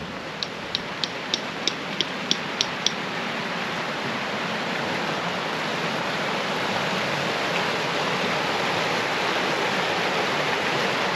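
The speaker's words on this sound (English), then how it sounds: "But this campsite though, it's right next to this river." Steady, loud rush of a river flowing right beside a campsite near Lake Isabel, Colorado, a continuous broadband roar with a few faint high chirps near the start.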